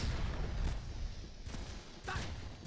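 Distant video game gunfire, faint and muffled, with a few separate shots over a rumbling background in a demo-disc game, and no talking during the shots.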